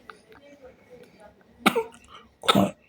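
A baby girl coughs twice, short throaty bursts close by, with faint background murmur and soft household sounds in between.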